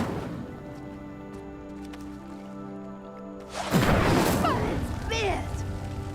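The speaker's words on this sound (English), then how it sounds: "Conjuring fire might work. These are pyres after all." In Hogwarts Legacy, an Incendio fire spell ignites a pyre with a loud whooshing burst that flares up and crackles, following a steady low musical game ambience.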